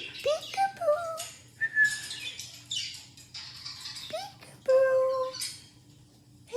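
A pet bird in its cage gives a run of sharp whistles and chirps in short, bright bursts, close and fairly loud, while a person speaks softly now and then.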